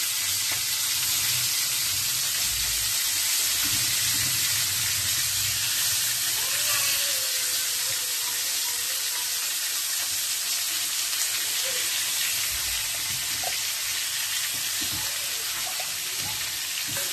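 Stuffed ridge gourds, for a Telugu stuffed curry, sizzle steadily in hot oil in a pan, a continuous close, moderately loud frying hiss with faint low clatter underneath and no talking.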